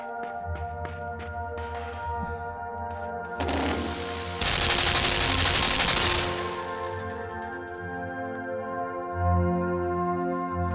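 Bursts of gunfire in the side-scrolling game Limbo, a loud sustained blast of automatic fire over a droning musical background, then fading back to the low ambient score.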